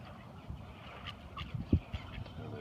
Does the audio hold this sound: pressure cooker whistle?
no